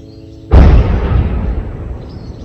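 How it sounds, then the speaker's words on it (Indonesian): One heavy explosion from an Israeli strike in Rafah, Gaza, lands as a sudden deep boom. A long rumbling decay fades slowly over the next two seconds. "Ledakan masih terus terdengar di kota Rafah, Gaza Selatan akibat serangan Israel."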